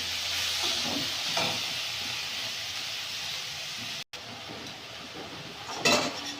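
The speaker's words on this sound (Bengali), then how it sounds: "মশলাটা কষে নেব।" Spice masala fries in a pan for a fish curry in a village kitchen, a steady close sizzling hiss with occasional clinks of a utensil against the pan and no talking.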